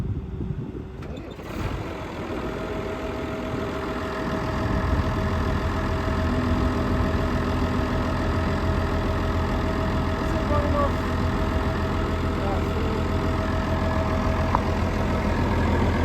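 Engine of a new wood saw with hydraulic oil cooling starts up and settles into a steady idle, a continuous low mechanical hum close by, with faint voices in the background.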